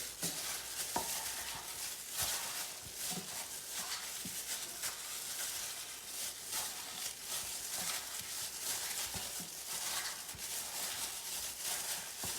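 Seasoned chicken wings get mixed around in a bowl, producing soft, quiet, irregular wet squelches and light clicks that go on steadily with no talking.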